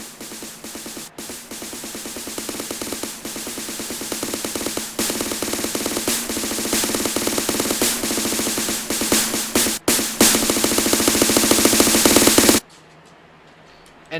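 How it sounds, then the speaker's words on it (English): A loud, dense snare roll of rapid, crackling hits with shifting intensity runs continuously, then cuts off abruptly near the end. "I can get a really cool dynamic sounding snare just by using scores"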